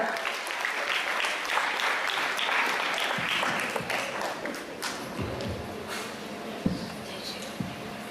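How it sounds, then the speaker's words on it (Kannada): An audience at a school Kannada Rajyotsava celebration claps to welcome singers, with sustained applause from a crowd in a hall that slowly thins toward the end, with some murmuring voices underneath. "ಈ ಹಾಡನ್ನು ಹಾಡಲು ಇವರನ್ನು ಜೋರಾದ ಚಪ್ಪಾಳೆಯೊಂದಿಗೆ ಸ್ವಾಗತಿಸೋಣ"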